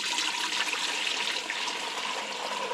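Maple sap pours from a bucket into a colander in a steady, close, rushing splash that runs without a break, with no talking over it.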